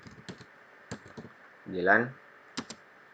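Someone types a Linux install command on a computer keyboard, a few quick key clicks in short bursts between spoken instruction, close and fairly quiet.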